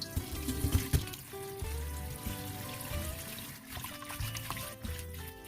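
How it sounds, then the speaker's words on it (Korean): Cold running water rinsing blanched spinach at a kitchen sink, a steady trickle and splash that shifts as the leaves are moved under the stream, fairly quiet and continuous with no talk. "살짝 데쳐낸 시금치는 찬물에 헹궈서 물기를 짜주세요"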